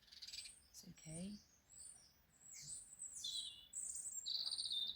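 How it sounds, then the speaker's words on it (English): Birds chirp and tweet outdoors in a lively scattered chorus, with bright high calls coming from several directions and a low voice murmuring briefly early on, moderately faint against quiet surroundings. "The birds here have been crazy, like absolutely crazy."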